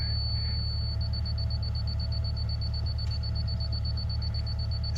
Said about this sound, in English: since it was repeatedly beeping, that means he's got more to go